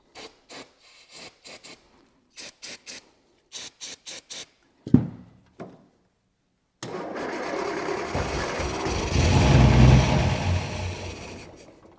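A 1962 Austin Healey 3000 MK II, left sitting over 20 years, cranks in short bursts, coughs once, then catches on starting fluid and runs roughly before the engine revs up and fades near the end.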